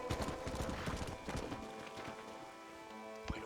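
Horse hooves clip-clopping in the video game Red Dead Redemption, a quick, fairly faint patter of hoof steps that thins out toward the end, mixed with soft game ambience.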